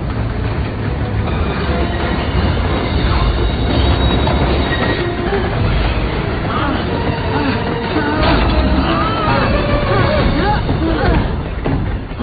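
A moving train car with open doors rumbles and rattles loudly throughout, with clattering wheels and faint squeals under a dense wash of noise and indistinct voices.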